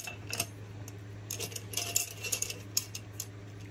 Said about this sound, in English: now I'm going to put the lids on.